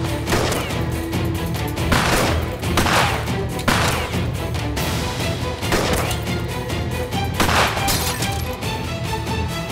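Gunfire during a shootout in a historical TV drama set in the Ottoman era, with repeated loud bursts of shots over a dense, continuous wash of music and action noise.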